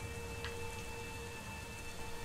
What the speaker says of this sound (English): so why did it start raining?